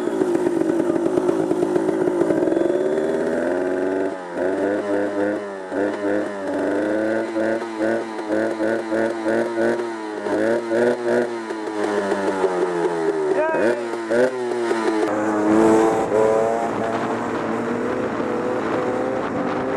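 A Yamaha YZ 310F dirt bike engine revs and bogs on a trail ride at Stradbroke, a buzzing, rising and falling note with repeated throttle blips, fairly close and loud.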